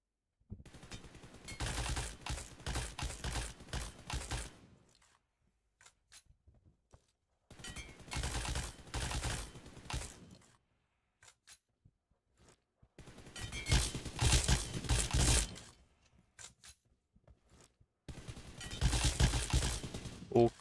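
Four sustained bursts of rapid automatic gunfire from a spray-fired weapon fitted with a 6x scope in the mobile shooter PUBG Mobile, each lasting a few seconds with short quiet gaps between, loud and dense.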